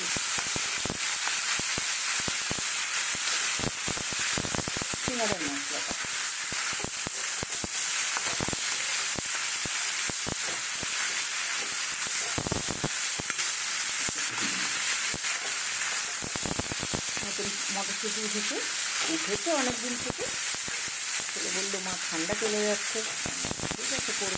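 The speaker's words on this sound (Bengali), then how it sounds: "এই সবজিটা কিন্তু আমি কিছু তেলে দিচ্ছি" Vegetables with peanuts and boiled baby potatoes fry loudly in hot oil, a steady dense sizzle running the whole time with a voice speaking now and then.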